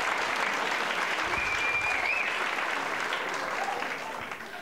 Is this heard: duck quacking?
no